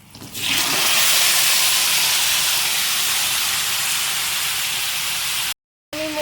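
Potato pieces frying in hot oil: a loud, dense, even sizzle that swells within the first half-second and holds steady before cutting out briefly near the end.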